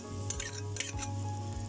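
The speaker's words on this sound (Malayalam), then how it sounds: "അപ്പോൾ നമ്മളിതിലേക്ക് അരച്ച് വെച്ച ഇഞ്ചി വെളുത്തുള്ളി പേസ്റ്റ് ചേർക്കുകയാണ്." Ginger garlic paste hits hot oil in a pan for chicken kondattam, giving a steady close sizzle while a spoon stirs and scrapes in short bursts.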